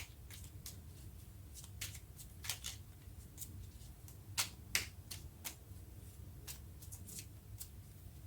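Tarot cards being shuffled, giving quiet, crisp irregular flicks and riffles against a faint background, with no talking.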